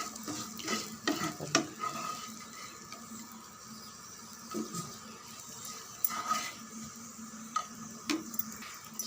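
Sliced okra fries in a pan with a quiet steady sizzle while a spoon stirs and scrapes it, making scattered light clicks and taps against the pan.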